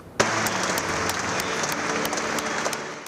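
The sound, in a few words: applause at Alex Zanardi's funeral ceremony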